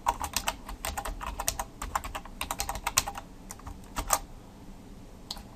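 Someone types on a computer keyboard, with quick irregular bursts of close, crisp key clicks broken by short pauses and no talking.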